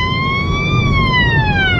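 An ambulance siren wails loud and close, a single steady tone sliding up and then down in pitch over a low vehicle rumble.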